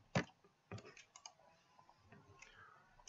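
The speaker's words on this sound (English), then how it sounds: "Let me just type it" Computer keyboard keys typed in a few quick separate clicks while entering a Shopify template file name, quiet and close, with short gaps between the keystrokes.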